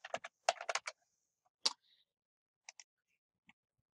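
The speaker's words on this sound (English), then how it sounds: "type in Wyatt," Typing on a computer keyboard, a quick burst of key clicks followed by a few isolated taps and pauses, close and clear with no talking.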